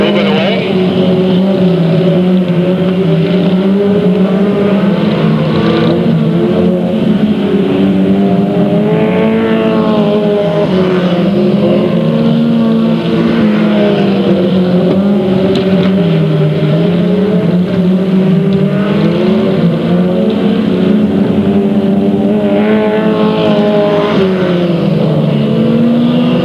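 Race cars at Delta Speedway in 1999 roar continuously around the track, engines droning and shifting pitch as they pass, loud and steady with a commentator talking over them throughout.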